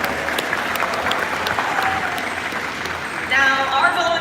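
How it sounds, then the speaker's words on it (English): A crowd at a dolphin theater show claps and applauds steadily throughout, the clapping swelling a little louder toward the end. "Let's give them a round of applause, everybody."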